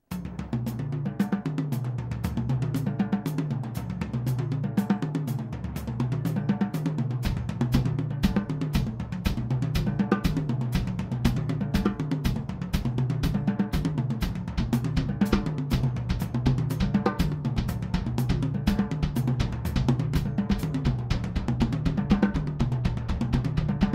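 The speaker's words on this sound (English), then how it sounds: "You can intersperse things sporadically on the kick drums while you keep this pattern going." Double bass drum ostinato from a drum kit, with a fast, relentless stream of kick drum hits running alone under a steady cymbal pattern.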